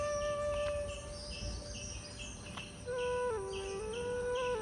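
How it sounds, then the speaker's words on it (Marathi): Morning birdsong in a quiet Konkan village yard in Kankavli: several birds trade bright chirps and sustained whistled calls over a steady insect-like hum, with a rising call near the end and no voices. "पक्ष्यांची किलबिलाट"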